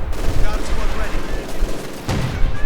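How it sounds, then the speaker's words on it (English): Artillery fire in the video game Company of Heroes 2: dense, continuous booming and rumbling gunfire with a sharper blast near the end, loud and heavy, with a voice speaking over the battle. "More artillery fire."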